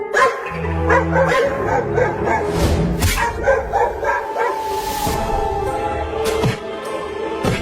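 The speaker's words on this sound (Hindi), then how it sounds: "वो कुत्ते उस लकड़ी के घर के सामने भौंक रहे हैं," Several dogs bark repeatedly at mid distance, with yips mixed in, amid a busy, noisy background.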